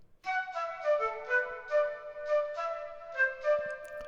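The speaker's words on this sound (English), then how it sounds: "I also used a flute plug from Flex." A flute plugin from Flex plays a lead melody line in a tropical pop house drop, a series of short breathy notes in a bouncing rhythm, clear and upfront with no voice.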